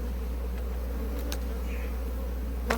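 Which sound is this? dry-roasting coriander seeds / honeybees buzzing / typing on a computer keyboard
honeybees buzzing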